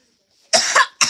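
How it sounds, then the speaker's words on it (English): A single sharp cough close up, followed by a second short cough after a brief pause. "Sometimes I cough and that means I laugh."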